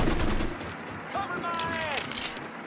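Machine gun fire in Mafia 3 comes as a short, rapid burst of shots at the very start. It then gives way to quieter ambient game sound with thin whistling tones.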